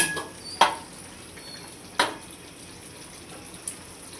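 A spoon scrapes and clinks against a metal pot of chicken curry three times at irregular intervals, over a soft background hiss of cooking, with no talking.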